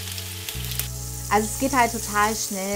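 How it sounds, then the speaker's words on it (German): Pumpkin pieces searing hot in a frying pan, a steady loud sizzle running throughout beneath a person talking. "Den Kürbis ruhig so ein bisschen scharf anbraten, ganz wichtig."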